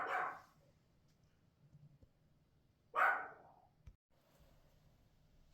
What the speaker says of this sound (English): And there's Brandy's barking at something in the side there.